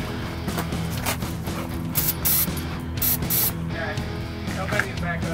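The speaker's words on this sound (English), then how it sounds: "Give it a little spray" A continuous aerosol spray hiss near a Ford Mustang GT engine, with some clicking and rattling mechanical noise running throughout, fairly loud and close.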